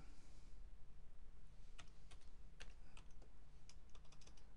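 Short bursts of keystrokes on a computer keyboard, crisp separate clicks in a quiet room, typing text into a box in Visual Basic, no voices.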